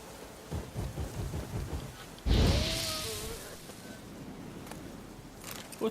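Rain pours steadily in The Witcher 3 video game, broken by a sudden loud thunderclap that rolls and fades over the continuing downpour, with insect-like chirps faint in the background.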